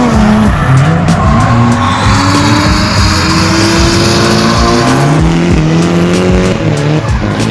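Drift cars at a USAIR drift day event with ClubFR scream their engines while tires squeal steadily, a loud continuous mix of revving and skidding at close range.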